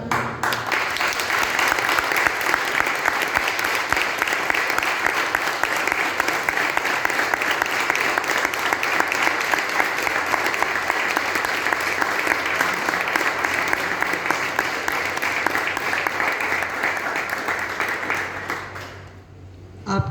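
Sustained applause from a large audience at an Ayurveda lecture, dense and steady clapping that holds for about twenty seconds before trailing off at the end.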